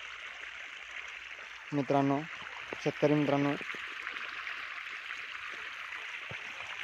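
Irrigation water running through cotton field furrows, a steady soft rushing stream in the background while someone speaks briefly over it.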